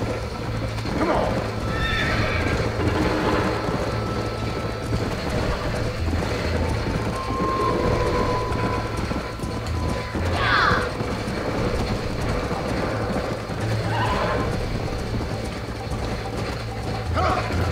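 A horse in the Red Dead Redemption video game whinnies and neighs amid steady clip-clopping hooves, set against a constant ambient game soundscape at moderate loudness.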